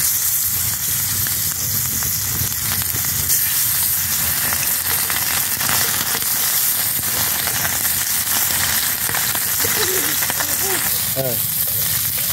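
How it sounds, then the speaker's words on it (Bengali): Tengra fish fry in oil on a hot pan with a loud, dense sizzle and hiss that holds steady throughout, while a few brief faint tones rise near the end. "গরম হয়ে গেছে, এবারে মাছগুলোকে একে একে ভেজে নেব।"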